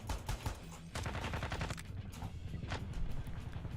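Rapid gunfire from the tactical shooter game Ground Branch, with dense bursts of shots crackling almost continuously over about four seconds at a fairly steady, moderately loud level and no speech.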